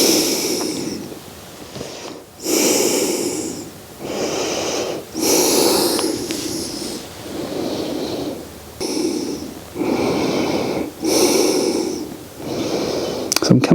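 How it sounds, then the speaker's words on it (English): Slow, deep breathing during a chest and shoulder stretch: about seven loud, close breaths alternate between inhales and exhales in an even rhythm, each slightly rough and nasal, with short quiet pauses between them. "We roll back into it and we're just breathing."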